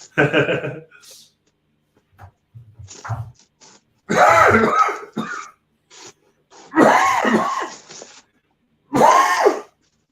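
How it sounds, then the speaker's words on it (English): Several harsh, throaty coughs and throat-clearing bursts come up close in separate fits, separated by silent pauses. "This cough don't want to go, man, I swear."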